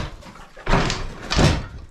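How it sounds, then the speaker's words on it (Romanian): A door is pushed shut with two solid, close thumps about half a second apart, loud over a steady rustling background. "stai că închid ușa"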